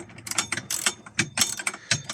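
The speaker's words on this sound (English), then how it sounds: "final bit is putting the bolt and washers in" Ratchet handle with an extension socket tightening the bolt and washers on a Fiat Ducato double seat swivel base, a series of quick metallic clicking bursts in an uneven rhythm, close and fairly loud, no talking.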